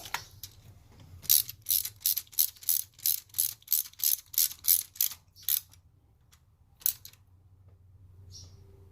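Ratchet wrench tightening a bolt on a 2014 Toyota Tacoma V6 engine during spark plug work, a rapid run of about a dozen close, crisp clicks followed by one isolated click, with a low hum beneath.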